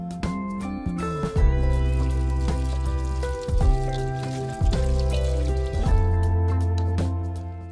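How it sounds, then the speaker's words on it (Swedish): Cut potato sticks rinsed under cold running water in a home kitchen, a steady tap stream pouring and splashing with several louder surges, close and continuous with no talk. "sen så kommer jag skölja dem noga med kallt vatten"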